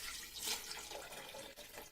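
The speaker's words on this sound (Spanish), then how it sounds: "Añadimos el agua, que es 1 litro." Water poured steadily, about a litre, into a blender jar with dates and cinnamon in a kitchen, a continuous close splashing rush that swells briefly then runs evenly.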